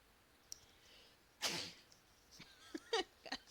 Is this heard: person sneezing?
yes